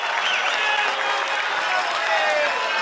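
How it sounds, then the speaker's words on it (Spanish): Steady applause from a stadium crowd at Estadio Elías Figueroa Brander as Santiago Wanderers come out to warm up, a continuous wash of many hands clapping at a distance with no break. "No crean que los aplausos eran para Ñublense."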